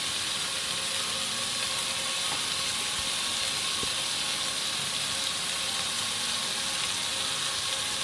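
Sate kalak, old-style Semarang satay dipped in spiced sauce, hisses and sizzles as it grills. The steady crackle stays loud and even, with a couple of faint taps.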